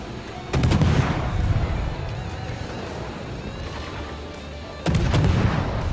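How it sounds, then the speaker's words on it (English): Guns of the destroyer USS Gearing firing in a World of Warships naval game: a sharp salvo of booms, a sustained rumbling stretch, then a second heavy salvo, all loud and close. "I'm simply going to smoke up behind this Republic and open up with the guns."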